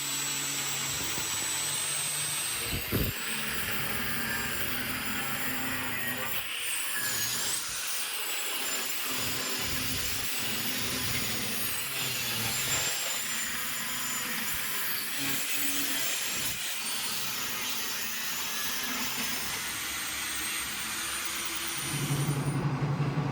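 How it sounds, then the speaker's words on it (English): An angle grinder with a cutting wheel cuts the rough shape of a steel knife blade from motorcycle chain or rebar, giving a continuous loud, high-pitched whine and grinding that runs steadily for over twenty seconds. "Then, I grab the angle grinder with a cutting wheel to roughly slice out the shape."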